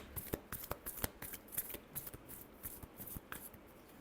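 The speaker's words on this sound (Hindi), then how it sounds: "Card shuffle." Tarot cards are shuffled by hand in a steady run of crisp, papery riffles and slaps, quiet and close, with no voices.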